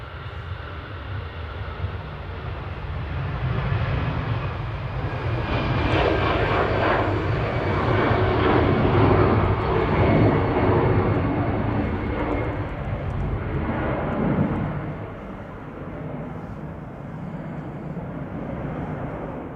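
An EasyJet airliner taking off from Manchester Airport, a loud, steady jet roar that swells to a peak near the middle and then slowly fades as the plane climbs away.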